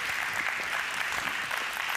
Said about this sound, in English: You guys can give them a round of applause.